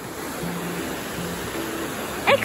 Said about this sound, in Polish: Wodospad i rzeka.